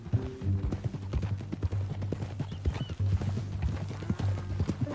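Horse hooves clip-clopping at a steady rhythm in Red Dead Redemption 2, set against a low, continuous hum with scattered clatter over about five seconds.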